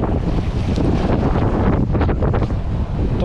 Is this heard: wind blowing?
yes